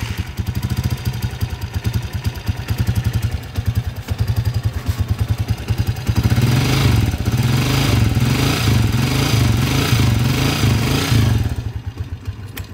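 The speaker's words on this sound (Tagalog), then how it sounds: "napakaingay na rin pala ng timing gear nitong Hataw 150 na to mga kabro" A Hataw 150 motorcycle engine runs steadily with a noisy timing gear, a rapid mechanical clatter riding over the close idle, which thickens and grows slightly louder partway through.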